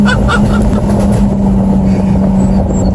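A Jaguar F-Type's exhaust rumbles loud and close in a steady, throaty drone, with crackling and popping sputters riding on the low engine note.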